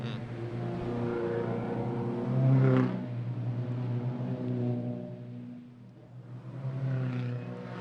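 Toyota race cars in the Macau Road Car Challenge final accelerate along the street circuit. The engines drone steadily with layered harmonics, swell into a louder rev, dip briefly and then rise again.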